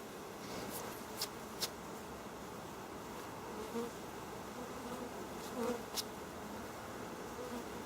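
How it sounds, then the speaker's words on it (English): Steady buzzing of many honey bees in a hive box during a honey harvest fills the air close by, a continuous drone with occasional brief louder passes, no voices. "There's still some bees in this box."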